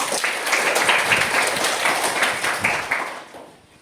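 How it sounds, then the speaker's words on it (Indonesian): A classroom at an Islamic madrasa breaks into steady group applause for a female teacher, a dense wash of clapping that holds for several seconds and then fades out at the end. "kita aplaus untuk Bu Muratullah"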